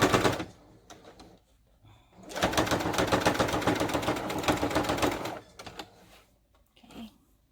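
A sewing machine back-stitches along the edge of a homemade fabric mask. It opens with short stop-start stitching bursts, then runs in a loud, fast, continuous rattle for about three seconds before slowing into a few brief bursts.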